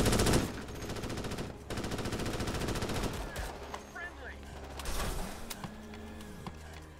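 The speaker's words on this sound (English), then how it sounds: "Someone was shooting their friend." Rapid automatic gunfire from the video game Starship Troopers: Extermination rattles in dense bursts, with overlapping shots, mechanical clanks and battle noise throughout, and voices now and then in the mix.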